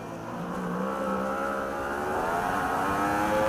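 Ducati superbikes race at Oulton Park in a British Superbike Championship round, their engines a loud, continuous high-revving howl that climbs steadily in pitch as the bikes accelerate.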